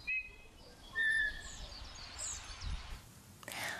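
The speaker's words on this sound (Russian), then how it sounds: "Зимующие птицы пожаловали в Шушинский бор сразу двух видов – снегири обыкновенные и длиннохвостые." Wintering birds in a pine forest, common bullfinches and long-tailed tits, give a few faint, brief high chirps and whistled calls over soft outdoor background noise.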